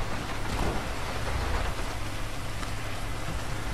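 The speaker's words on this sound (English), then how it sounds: "Why you gotta rain so hard?" Heavy rain pours down in GTA V, a dense, steady downpour with low rumbling beneath it, loud and continuous throughout with no talking.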